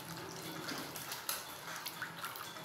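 A dissolved caustic soda solution, flake soda mixed into room-temperature water, is poured steadily, giving a soft, continuous liquid hiss with a few faint splashes, quiet and close.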